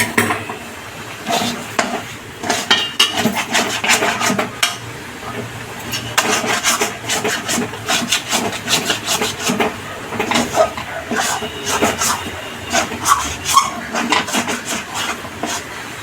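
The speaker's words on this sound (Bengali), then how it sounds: "তেলটা থালায় মাখিয়ে রাখছি।" Oily fingers rubbing and smearing oil over a metal plate, with a steady stream of soft scraping, rasping and faint clinks from the dish.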